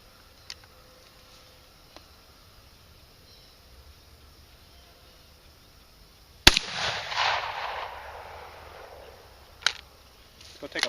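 A Rossi single-shot shotgun fires a 3-inch double-aught buckshot load at a water-filled milk jug outdoors: one sharp, loud blast followed by a long decaying rumble and splash-like wash, with a faint click afterward.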